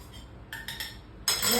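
A spoon clinks and scrapes against a bowl while a rose water mixture is stirred, a few light taps, then a brighter, louder run of clinking near the end.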